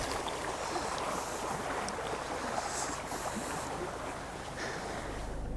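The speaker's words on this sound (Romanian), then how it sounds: "Se sparg valurile aici de la vânt." Soft, continuous rushing of water and wind, like small waves breaking nearby in a breeze along a Scandinavian shore, with no voices.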